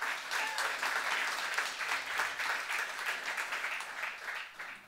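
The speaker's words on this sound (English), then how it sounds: "if you don't follow Jesus, we're not doing that to try to coerce you into clapping." A church congregation applauds together in a broad, steady wash of clapping heard from within a large room, fairly soft and sustained before tapering off.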